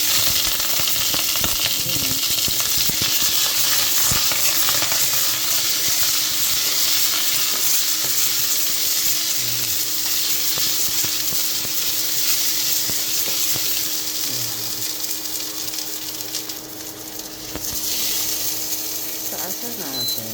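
Food fries in a pan on a home stove at breakfast, giving a loud, steady sizzle that runs without a break, with occasional scraping and stirring noises and a voice talking now and then.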